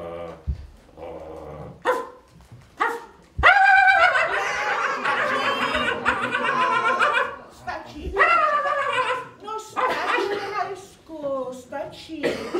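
A man imitates a dog barking, giving a series of loud voiced barks and yaps with growly pauses between them, while children laugh and chatter in the background.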